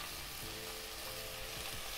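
Wild leafy vegetables frying in a pan with a steady, dense sizzle and faint stirring scrapes, close and continuous throughout with no voices.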